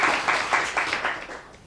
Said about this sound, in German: Applaus für Sie.